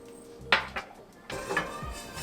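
Black pepper toasting in a pan at home, with metallic clinks and scrapes of pan and utensil on the stovetop, a sharp knock near the start followed by softer shuffling and a second burst of clattering.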